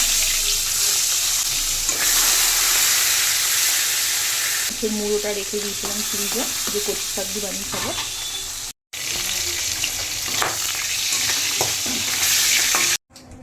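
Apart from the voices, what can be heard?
hilsa fish head frying in oil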